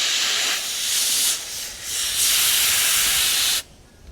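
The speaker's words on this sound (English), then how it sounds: "Let's get the air compressor." Compressed air from an air compressor nozzle blasts fluid out of a car's front-end part in a loud, steady, close-up hiss that wavers slightly and then cuts off abruptly, leaving quiet.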